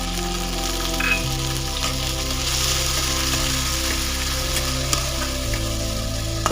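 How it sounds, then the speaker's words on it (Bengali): Chopped tomatoes and ginger paste fry for dal, making a steady loud sizzle and hiss, close up, with no talking. "এর মধ্যে দিয়ে দেবো কুচিয়ে রাখা 2 বড় সাইজের টমেটো।"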